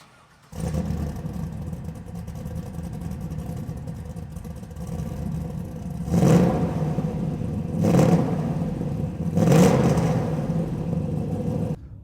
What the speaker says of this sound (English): we're out in the Camaro driving